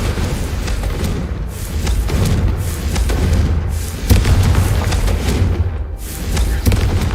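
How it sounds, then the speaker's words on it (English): Confringo fire spell explosions in a Hogwarts video game, a series of dull booming blasts and thuds layered over continuous game noise, loud and close with several hits spaced a second or two apart. "Confringo."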